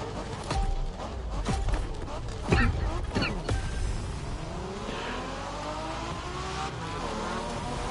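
A car races in The Crew Motorfest with its engine revving hard through repeated gear changes, the pitch climbing and sweeping. Loud, continuous motor noise is joined by a brief surge midway.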